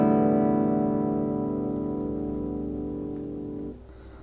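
Open guitar strings in standard tuning are strummed once and ring out together as a sustained chord, fading slowly before being damped near the end.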